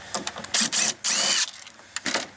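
A hand ratchet works a bolt loose on a Ford Focus side mirror, several short bursts of rapid clicking close up with brief pauses between strokes.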